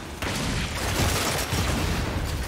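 A frag grenade goes off in Gears 5 with a sudden loud blast. A dense, sustained roar of explosive and gunfire noise follows right after.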